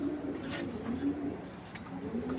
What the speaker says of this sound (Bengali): আর এখানে দেখা যাচ্ছে একটা টুর্নামেন্টের মাদি কবুতর